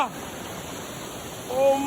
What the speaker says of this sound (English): Umbona, this is called river.